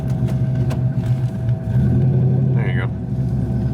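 An LS1 V8 swapped into a BMW Z3 rumbles steadily from inside the car as it drives off, a loud low drone that shifts slightly midway, with a voice talking over it.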